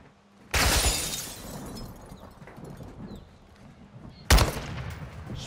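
Two sharp, loud sniper rifle shots in a video game, spaced a few seconds apart, each a sudden crack with a short decaying tail over quiet background ambience.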